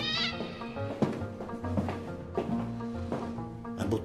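A single cat meow rings out near the start, then gives way to a steady background of music and other sounds, with no further cries.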